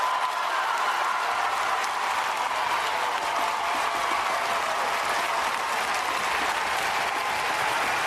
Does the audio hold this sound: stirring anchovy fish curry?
no